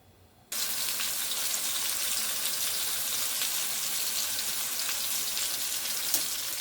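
A pot roast sizzling and browning in grease in a pan, a loud steady fry that starts abruptly when the meat goes in and stays constant and close.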